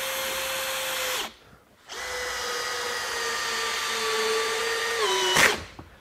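A Makita GPH01 40V XGT hammer drill driver whines loudly as it drives a fastener, running steadily, cutting out briefly, then spinning again and winding down as the clutch stops it.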